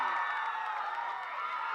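A crowd in the stands at a high school football game between Redondo and Leuzinger applauds and cheers winners of a best crowd music award, a steady, dense wash of clapping and voices with no pauses.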